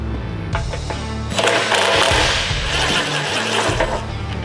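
Two T40 screws holding the fender on a 2014–2024 Harley-Davidson Touring motorcycle are removed. A short tapping lead-in gives way to a loud, steady mechanical whirring and buzzing that runs to the end, close to the listener.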